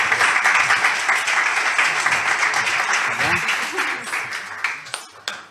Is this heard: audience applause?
yes